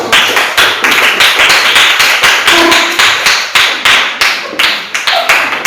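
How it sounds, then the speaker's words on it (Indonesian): A crowd claps steadily for several seconds, a dense patter of many hands close by, with no talking over it. "Tepuk tangan untuk kelompok 1."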